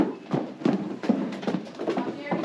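Hooves clop and thud on a hard floor as horses shuffle and move about nearby, with some background noise.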